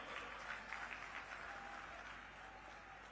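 Faint, distant applause from a crowd of young party workers at a large youth convention welcomes a visiting minister, a soft continuous wash of clapping that slowly fades.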